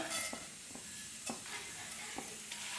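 Fennel seeds and cinnamon pieces frying in hot oil: a steady, close crackling sizzle with a few light clinks and stirring knocks scattered through, and no voices.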